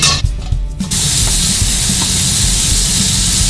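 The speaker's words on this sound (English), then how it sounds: "So when we're cooking up our bacon, we're rendering the fat off the bacon" Fatty bacon frying in a little oil on low heat, a steady close sizzle and hiss after a brief quieter moment at the start.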